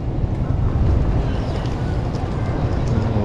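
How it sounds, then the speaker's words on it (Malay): Wind buffets the microphone in a steady, loud roar at a fishing jetty by the sea, with a low rumble and a wash of water beneath it that runs throughout. "angin."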